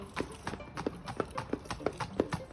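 Horse hooves clip-clop in a steady, even rhythm of about eight distinct strikes, fairly close, as a thoroughbred is walked for a lameness gait assessment.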